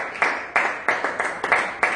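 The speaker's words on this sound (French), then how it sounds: "Donnons une acclamation à notre Dieu." A church congregation gives scattered applause: a handful of sharp, separate handclaps in loose, irregular rhythm, fairly close and moderately loud, with nothing else heard between them.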